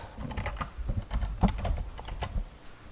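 Steady typing on a computer keyboard while entering C++ code, a close, quiet run of irregular key clicks and taps with no voices.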